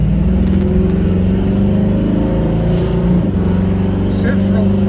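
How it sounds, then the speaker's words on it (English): A supercharged hot rod farm truck engine running steadily with a constant droning hum and a faint high blower whine riding on it, loud and close from inside the cab, with people talking over it. "I like the sound of that blower, the whine"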